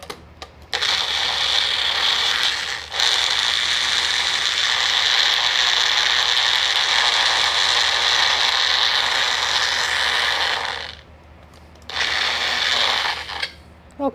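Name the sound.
pureeing cherry popsicle mixture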